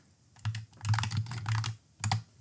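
Commands are typed on a computer keyboard during an Arch Linux install, coming as close, crisp bursts of key clicks with short pauses between them, over a quiet background.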